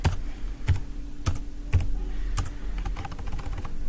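Fingers tap on a computer keyboard while entering data into an Excel sheet, uneven clusters of clicks with heavier thumps from the larger keys, close and steady for several seconds.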